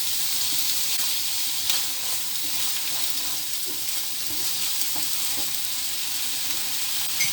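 Butter sizzles steadily in a hot pan with sausages being cooked for South African-style hot dogs. A continuous, even hiss of frying goes on throughout with no voices.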